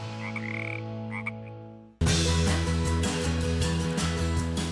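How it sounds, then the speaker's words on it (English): Frogs croak in a swamp, first as a quieter steady drone, then as a sudden loud, dense chorus of overlapping pulsing calls close by. "We finally getting some frogs"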